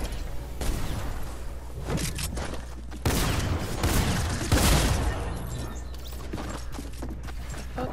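Rapid automatic gunfire from a Fortnite battle royale match, several loud bursts of shots layered over steady game ambience, with the heaviest volleys arriving in the middle.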